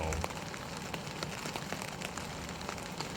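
Rain patters steadily on a backpacking trail along the Pictured Rocks Lakeshore, a dense, even hiss of drops with scattered louder taps, close and continuous with no voices.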